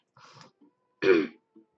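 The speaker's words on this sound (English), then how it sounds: "Trying to get over this coughing fit before I continue." A short, rough throat clearing is followed by a single harsh cough, close and fairly loud, with brief quiet gaps around them, in a coughing fit.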